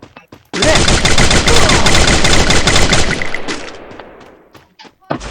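A charge gun in a video game lets out a loud sustained burst of rapid-fire shots lasting a few seconds, then a long fading tail and a last sharp hit.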